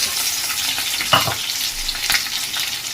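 Onions, green chillies, curry leaves and potatoes fry in a pan with a dense, continuous sizzle, punctuated by a couple of brief scraping stirs.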